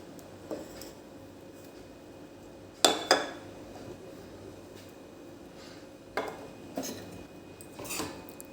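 Crushed ingredients are stirred into hot sugar syrup in a pan over a low flame, with a few sharp metallic clinks and scrapes of a spoon against the pan at irregular intervals against a quiet background.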